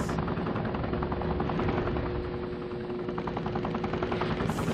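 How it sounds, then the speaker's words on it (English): Helicopter rotor in The Incredibles PS2 video game, a steady loud thudding drone with a constant hum running through nearly five seconds, heard alone without talk. "See a helicopter."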